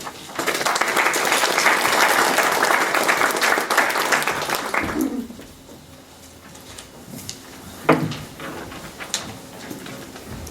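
An audience at a board meeting bursts into loud, sustained applause welcoming a speaker, steady for about five seconds before fading into room quiet with a couple of soft knocks.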